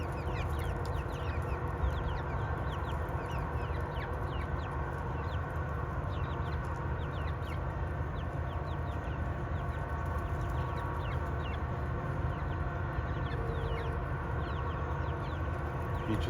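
A flock of chickens clucks and cackles continuously while chasing after a tomato. The steady busy chatter of many birds stays near and fairly faint throughout, with no talk.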